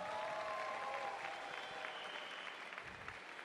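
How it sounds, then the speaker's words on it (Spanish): Audience applause for a contestant at a Miss Universe Colombia pageant show, a sustained, fairly quiet wash of clapping from a large crowd with a faint musical tone underneath early on. "Aplausos para Bárbara."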